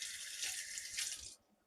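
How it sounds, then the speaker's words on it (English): Tap water runs steadily over a knife being rinsed in a kitchen sink, a soft close hiss lasting a little over a second before it cuts off. "Let me rinse it off"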